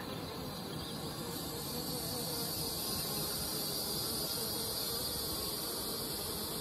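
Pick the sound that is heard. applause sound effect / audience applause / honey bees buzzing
honey bees buzzing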